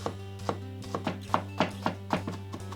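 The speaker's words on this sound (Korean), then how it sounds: "양파는 잘게 다져주세요" A knife chops onion finely on a cutting board in a series of quick, evenly spaced taps over a steady low hum.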